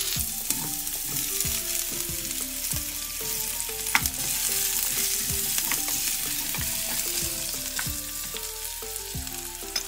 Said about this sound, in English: go ahead and add your cumin seeds and let that sizzle for a second